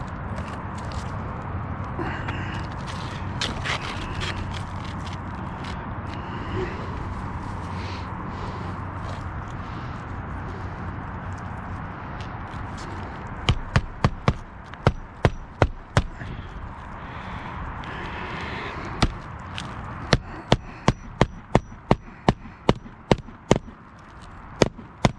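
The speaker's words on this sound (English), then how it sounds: "trim this shingle off to maximize that airflow" A roof shingle is trimmed during a ridge vent replacement, with a steady outdoor hiss and then bursts of sharp, rapid cutting or tapping clicks in quick series toward the end, with no talk.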